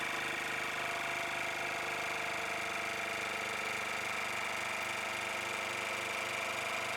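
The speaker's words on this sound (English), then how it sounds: "Snap it close, then we'll press vac seal." A Geryon E2901-M vacuum sealer machine runs its vacuum seal cycle. Its motor and pump hum steadily and closely without a break, with a faint, regular pulsing throughout.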